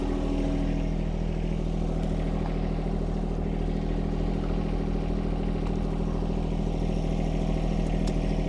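A John Deere 1025R compact tractor engine runs steadily at a low, even idle, with a constant rumble and faint mechanical clatter throughout.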